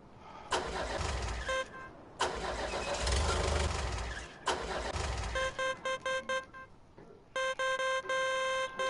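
An excavator or tractor engine turns over and fires in three separate start attempts, each a loud, close burst of rumbling roar, with high electronic beeps sounding between and after the runs.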